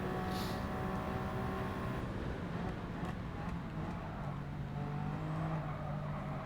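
A GR1 prototype race car engine in Gran Turismo 7 drones steadily and loudly through the whole stretch, a continuous broadband roar with no pauses and no talk.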